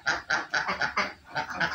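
Laying ducks in a dry pen quack in a close series of nasal calls, about eight in quick irregular succession, moderately loud with no talk.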